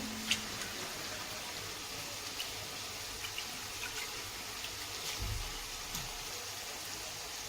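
Toor dal (pigeon peas) gets rinsed by hand in water, with continuous splashing and swishing close by and a few soft knocks as the grains are stirred and poured.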